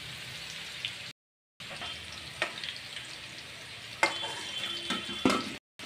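Potato and papaya pieces fry in hot oil in a pan, giving a close, steady sizzle with occasional stirring scrapes, broken by two brief silent gaps.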